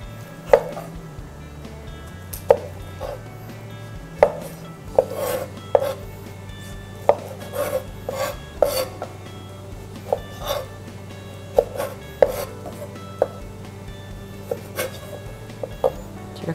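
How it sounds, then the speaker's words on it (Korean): A knife coarsely chops peeled tomatoes on a board, sharp distinct knocks repeating at an uneven rhythm, close and clear with no talk. "얘는 듬성듬성 썰어서 우리 사용을 할 거예요."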